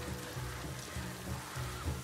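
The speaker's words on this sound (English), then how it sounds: "Now it's raining." Steady rain falls in The Last of Us Part II as a dense, even hiss with a low rumble underneath, continuous and fairly soft throughout.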